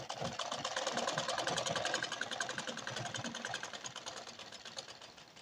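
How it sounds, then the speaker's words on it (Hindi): A sewing machine stitching a firm seam along a blouse border hums in a steady, fast, rhythmic chatter, close and continuous, easing slightly toward the end with no speech. "इसलिए हमें यहाँ पर पक्की सिलाई रखनी है।"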